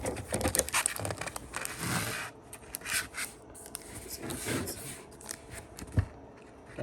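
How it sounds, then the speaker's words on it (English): Baseball trading cards from a Topps Stadium Club 2021 blaster box shuffled by hand, a close, dense run of papery riffling and rubbing swishes with brief pauses, no talking. "And just shuffle it up."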